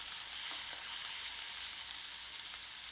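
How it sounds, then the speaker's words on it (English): Striped bass topped with warmed lemons cooks in a covered pan, giving a soft, even sizzling hiss that runs continuously and quietly, muffled under the lid, with no voices. "Let this cook until your bass is fully cooked"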